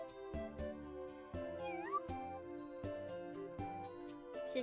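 A pet cat meows repeatedly in a home setting, a string of short, fairly close calls with pitch glides, heard over steady background music.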